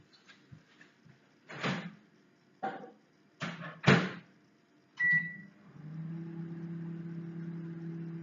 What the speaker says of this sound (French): je vais mélanger du coup mon beurre et du coup mon chocolat au micro-ondes